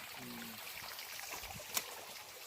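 A small forest stream trickles steadily over rocks, faint and continuous, with a brief sharp tick near the end.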